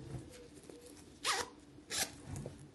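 Zipper on the pocket of a Disneyland Paris bag, pulled in two quick, close rasping strokes about a second apart, with light handling rustle around them and no talking.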